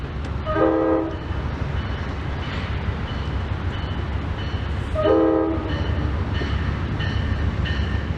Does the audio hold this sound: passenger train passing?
yes